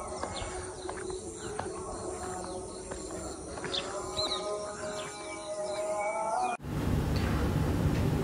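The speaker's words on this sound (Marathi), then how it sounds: "एकदम शांत, पक्ष्यांचा किलबिलाट." Birds chirp and call through a foggy village morning near a temple, a steady layer of small scattered tweets close by, with a dense background wash and no talking.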